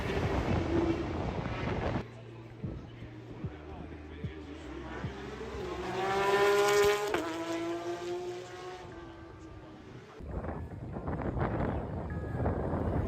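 Porsche Supercup race cars on a practice session at the Dutch Grand Prix give a distant, high buzzing engine whine that swells and fades as they pass, with a voice talking over it.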